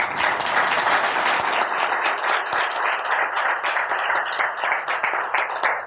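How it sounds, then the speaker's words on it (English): Audience applause at a professional psychology conference session, sustained dense clapping from a sizable crowd, even and loud throughout without talking. "Y'all can give a round of applause."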